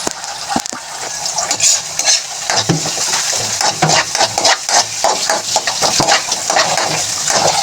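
Chicken feet and gizzards cooking as adobo sizzle loudly in a pan while a utensil stirs them, with steady frying hiss and frequent scraping clicks against the pan, close up and without talk.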